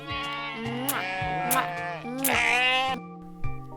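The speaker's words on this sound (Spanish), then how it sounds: "Mira, una oveja." A sheep gives a few quavering bleats in quick succession, loud and near, ending with a short tail of quieter sound.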